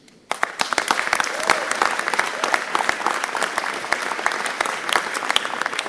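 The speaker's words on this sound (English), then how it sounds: "the budget chief is the one that starts clapping first" An indoor audience at a government funding announcement on gun and gang violence breaks into applause, starting abruptly and holding a dense, steady patter of many hands clapping close by, with faint voices beneath.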